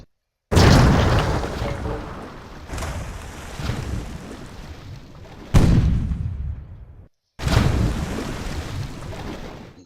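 Naval cannon fire and explosions in the Patrician 3 trading game as ships battle a pirate: four heavy booms with rumbling, crackling tails, loud and close, with no talk.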